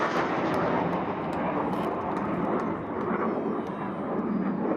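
Airplanes fly past along the Chicago lakefront during the Chicago Air and Water Show, a continuous broad roar of engines that stays loud and steady throughout with faint background noise.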